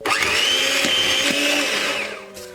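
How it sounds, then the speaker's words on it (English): An electric whisk beating butter and sugar, a loud, steady motor whine lasting about two seconds before winding down. "let me get my electric whisk"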